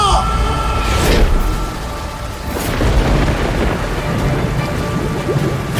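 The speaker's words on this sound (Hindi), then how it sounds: "अचानक जोर की बिजली कड़की" Thunder with a lightning strike rolls through heavy rain, two sharp cracks standing out over a loud, steady downpour, with sound effects and music in the background.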